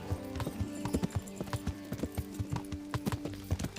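Horse hooves gallop in a steady clip-clop rhythm across the ground in the medieval video game Kingdom Come: Deliverance, close and continuous with a faint whinny.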